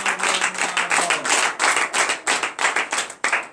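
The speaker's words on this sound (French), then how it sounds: "Donnez de vives acclamations à notre Dieu." A congregation claps at morning prayer in Benin, a dense run of close, sharp handclaps with uneven rhythm and brief dips, mixed with faint voices.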